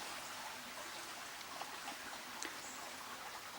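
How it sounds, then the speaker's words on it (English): Water from a stream flows along old stonework in a small valley, a faint, steady wash of trickling and babbling water heard outdoors from a short distance with no voices. "Might be able to hear the water."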